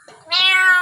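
A myna bird imitating a cat's meow: one clear, close, loud meow-like call that rises and then holds, heard alone.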